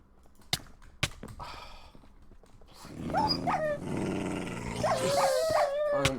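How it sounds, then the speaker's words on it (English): Dogs in a video game growl and snarl, following two sharp thuds, with a rough sustained rumble and whining yelps that rise and fall for several seconds, close and fairly loud. "I just can't deal with these dogs anymore."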